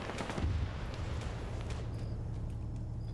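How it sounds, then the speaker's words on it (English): Rocket hits strike a target in a US versus China combat video game, with a loud boom followed by a series of sharp crackling impacts and rumbling echoes that fade out. "one of them just hit it with rockets"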